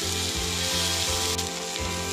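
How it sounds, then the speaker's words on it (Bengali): Lote fish pieces shallow-fry on a hot tawa for a fish cutlet, giving a close, continuous oily sizzle with faint soft bumps and no talking. "বাকি 4 পিস মাছ আমি তাওয়াতে দিয়ে সাঁতলে নেব"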